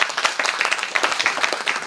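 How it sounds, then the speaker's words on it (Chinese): Applause from villagers at an outdoor groundbreaking and blessing ceremony for a village columbarium wall, a short burst of brisk, crisp clapping from a modest crowd. "掌声一下"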